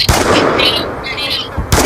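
Gunfire from a gun in the Roblox game Brookhaven, a loud burst of shots that swells and fades before a second sharp shot at the end, close and dominant with no clear talk.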